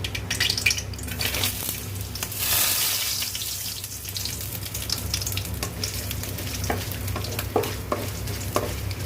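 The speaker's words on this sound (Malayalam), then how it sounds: "കുറച്ച് തേങ്ങാക്കൊത്തിട്ട് വഴറ്റിയ ശേഷം" Coconut pieces sauté and sizzle in hot oil for a Kerala-style pork roast, a steady frying crackle with occasional scrapes and stirring clinks of a utensil against the pan.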